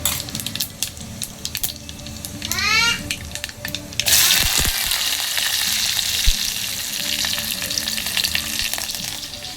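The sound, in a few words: mustard seeds and cumin frying for dal tempering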